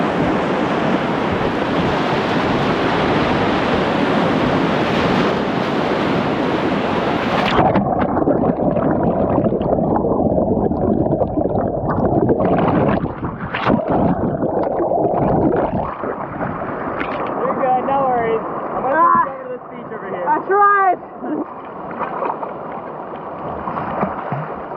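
Whitewater kayaking on the Nolichucky River near the Twin Eddies rapid: a loud, steady roar of rushing water fills the first several seconds, then drops to a softer wash with splashes and a few whistling tones.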